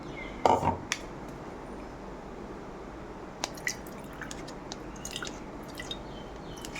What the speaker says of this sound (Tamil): இப்போது ஒரு வடிகட்டியில் வடிகட்டிக்கலாம்